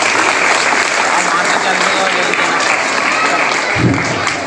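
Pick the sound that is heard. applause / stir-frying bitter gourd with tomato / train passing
applause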